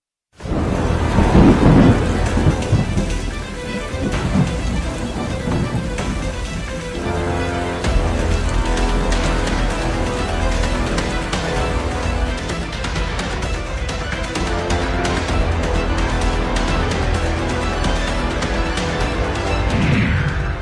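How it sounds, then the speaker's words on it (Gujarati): A violent thunderstorm with heavy rain in Gujarat, a loud crack and rolling thunder at the start giving way to a dense, constant roar of downpour on surfaces, with more distant rumbles underneath. "જુઓ કેવી રીતે ત્રાટક્યો તોફાની વરસાદ"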